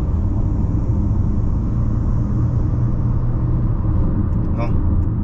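A 2022 Honda HR-V's engine drones steadily as the car accelerates from 80 to overtake a container truck, with road and wind rumble throughout and a faint beep near the end.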